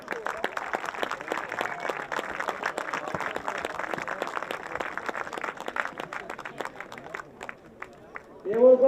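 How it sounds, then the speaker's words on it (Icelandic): Sustained applause and clapping from a crowd at a youth football awards moment in Iceland, steady and dense for most of the stretch before fading, with a voice starting at the end. "Endilega gefum hann mjög gott klapp."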